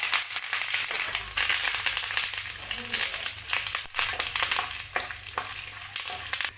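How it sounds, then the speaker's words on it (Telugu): Curry leaves fry noisily in hot oil alongside peanuts for lemon rice, giving a loud, dense crackling sizzle with spattering pops and stirring scrapes throughout. "బాగా ఫ్రై చేసుకుందాము కరివేపాకు వేసుకుందాం"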